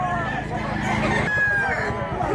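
A big three-year-old gamecock rooster crows amid a busy rural setting, with loud overlapping clucking and chatter from other fowl and brief voices around it.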